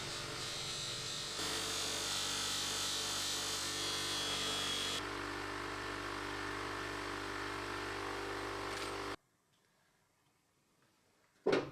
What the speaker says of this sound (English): This is an abrasive soap with abrasive particles in it, and it takes all the debris off the surface of the brass